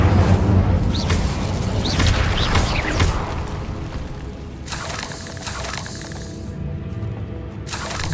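Fiery spell bursts and crackling blasts from the Incendio fire spell in Hogwarts Legacy, set in a decaying catacomb, with several loud whooshing, shattering impacts over a dense rumbling game soundscape and no talk.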